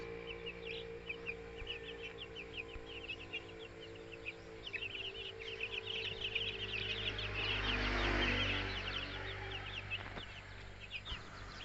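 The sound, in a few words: one-month-old heritage chickens clucking in a coop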